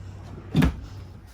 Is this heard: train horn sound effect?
no